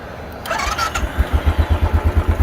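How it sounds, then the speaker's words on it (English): A 2020 Royal Enfield Bullet Trials 500 single-cylinder engine cranks briefly and catches, settling quickly into an even, thumping low idle, close and fairly loud. "let's fire it up so you can give this engine a listen"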